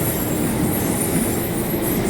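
A train passing close by in the UK: a steady, loud rumbling rush with metallic rail noise and a faint high squeal throughout.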